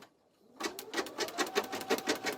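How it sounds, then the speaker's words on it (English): An embroidery machine stitches an in-the-hoop placement line for a vertical wallet, starting after a short silence and then running in a fast, regular rattling rhythm of needle strikes; no talk. "Let's see if it's going to stitch placement for me this time"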